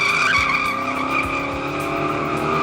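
An El Camino with a Gearstar 4L60E transmission, a Yank converter and about 420 horsepower does a one-wheel peel. A single tire squeals loudly and steadily over the engine roar, close by, with no talking.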